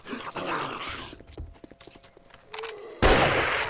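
Gunfire in the survival video game 7 Days To Die, a cluster of sharp shots amid chaotic game noise, followed by a louder burst of sound near the end.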